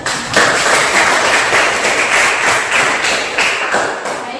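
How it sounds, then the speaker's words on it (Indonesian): A classroom of students claps together in a loud, dense burst of many hands that keeps up steadily across the stretch, close by and without talk. "kita tepuk tangan dulu."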